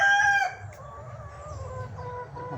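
A hen lets out a loud squawk, then keeps clucking softly in short, low, irregular bursts, fairly close by.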